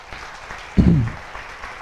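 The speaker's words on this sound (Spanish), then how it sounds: "Un fuerte aplauso al Señor." Church congregation at a Holy Week service bursts into a brief burst of applause lasting under a second, after a quiet room tone.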